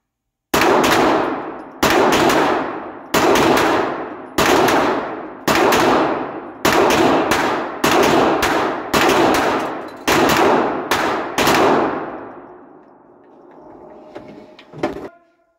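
Handgun shots ring out at an indoor GSSF shooting match: a series of loud, sharp reports, some single and some in quick pairs, echoing in a hard room over about twelve seconds, then a quieter stretch of range noise and one last shot.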